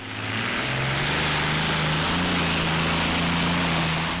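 A modified pulling tractor engine roars loudly and steadily at an annual tractor pull, its deep, rising drone building in the first second and holding strong and close throughout.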